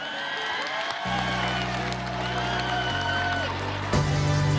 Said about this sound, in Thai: ขอเสียงปรบมือให้น้องด้วยครับ